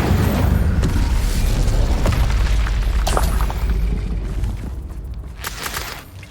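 Fiery spell blasts in the Hogwarts Legacy video game, Confringo and Incendio, boom and rumble densely for several seconds, loud and close, then fade toward the end with a few sharp bursts.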